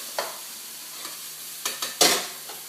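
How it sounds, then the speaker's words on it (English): Onions sizzle softly in a pan, with a few sharp scraping stirs and a louder clatter near the end. "and the onions are sweating away"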